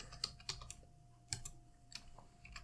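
Quiet, close clicks of typing on a computer keyboard: a handful of sparse, irregular keystrokes over a faint steady hum.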